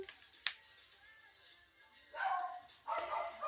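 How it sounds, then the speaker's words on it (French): A dog barks and yips indoors during a K-pop album unboxing, a sharp bark early then two louder bursts later, fairly close with quiet room tone between. "Désolée pour le chien qui aboie."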